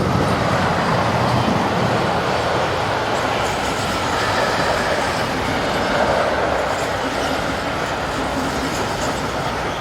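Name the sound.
freight train hauled by locomotive 187121 passing on main line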